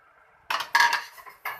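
A spatula knocks and scrapes against a pan while egg fried rice with boiled rice and green onion is mixed: three short, loud metallic clatters close by, with no one talking.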